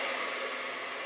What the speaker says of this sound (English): There's a cold button on the hairdryer, and on the very end I hit it with cold air.